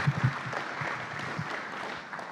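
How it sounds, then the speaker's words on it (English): Audience applause for a panel at the end of a spray forum session, a steady wash of clapping through the whole stretch at moderate level, with a few louder low thumps near the start. "Big round of applause for our panel."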